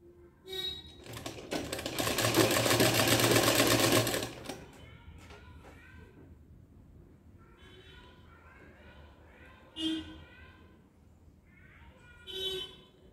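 Sewing machine stitching along an opened fold line in fabric, running in one loud burst of a few seconds near the start, followed by a person talking with light handling noise.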